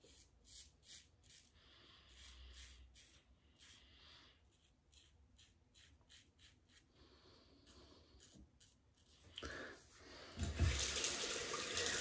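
A vintage Gillette Super Adjustable Black Beauty safety razor is rinsed under a running tap, with splashing water, rubbing and tapping against the sink, growing louder and fuller toward the end.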